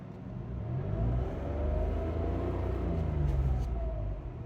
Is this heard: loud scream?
no